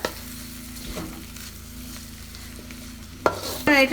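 Chicken puff masala sautéed and stirred in a pan, giving a steady frying sizzle with scraping stir strokes and a louder clatter of the spoon near the end.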